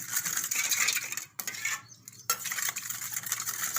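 A spoon stirs oil and water in a pot for gathiya dough, scraping and clinking steadily against the metal with two short pauses, close and fairly loud, no talking.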